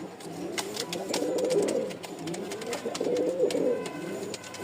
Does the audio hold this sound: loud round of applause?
no